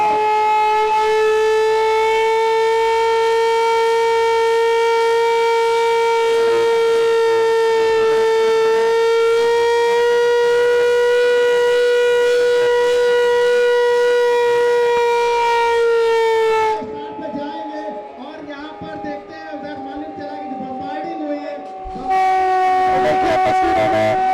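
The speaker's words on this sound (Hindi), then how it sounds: "अभी आप आवाज सुन सकते हैं सायरन को जो बजेगा" A loud air raid siren wails steadily during a mock drill in Lucknow, with a rising and falling pitch, then briefly dips and fades before sounding again at full strength.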